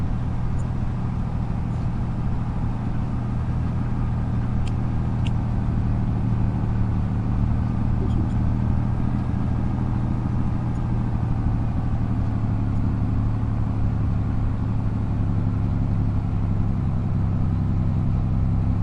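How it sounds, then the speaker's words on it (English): A tractor engine runs steadily on a farm, a constant low rumbling drone that holds at an even level throughout with no clear revs or pauses. "Ooh, come on, tractor."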